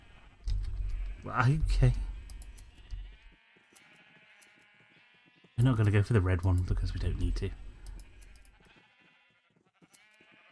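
Sheep bleating in the Minecraft video game, two drawn-out bleats heard close under someone talking.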